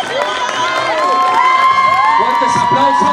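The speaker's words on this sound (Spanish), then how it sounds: "Fuertes aplausos." Wedding guests at a celebration in Cusco, Peru, cheer, whoop and shout loudly as a lively crowd, with high excited voices overlapping continuously and some talk mixed in.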